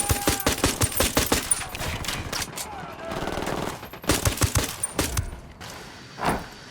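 Rapid gunfire in Ghost Recon Wildlands, sharp cracking bursts from automatic weapons in quick clusters, pausing briefly before another volley, then a final thump, with game voices faintly present.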